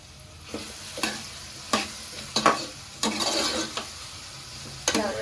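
Carrot and beetroot pieces sautéing in a pan for a Tamil-style curry, with a low sizzle under a series of sharp, irregularly spaced spoon scrapes and taps against the pan, close and without talk.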